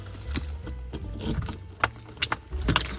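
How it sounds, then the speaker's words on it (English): A bunch of keys jingles in short metallic bursts near a car while someone heads out on errands, quick close clinks over a low hum of background noise. "grabbing the keys"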